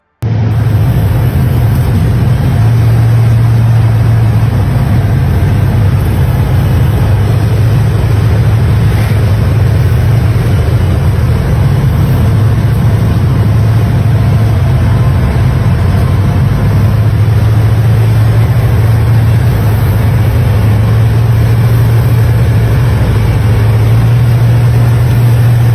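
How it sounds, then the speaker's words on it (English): A 1940 Ford Hot Rod coupe with a Chevy 350 V8 and automatic transmission runs close and loud, its deep engine drone holding steady with occasional swells in pitch. "1940 Ford Hot Rod, Chevy 350 V8, automatic."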